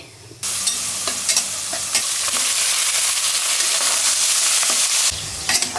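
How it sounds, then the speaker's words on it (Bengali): Small pieces of Qurbani meat fry in a pan, a loud, close sizzle that bursts in suddenly and holds steady, broken by the scrape of stirring, then cuts off near the end. "মাংসটাকে ভাজবো আর আস্তে আস্তে করে একে একে সব মশলা দিব"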